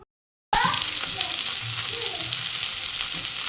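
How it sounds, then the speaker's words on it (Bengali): Leaf-wrapped fish paturi fry in a little mustard oil in a wok, a steady loud sizzle that starts abruptly after a brief silence and continues evenly. "কড়াইয়ের মধ্যে সর্ষে তেল দিয়েছি অল্প, তারপর পাতুরিগুলি দিয়ে দিয়েছি।"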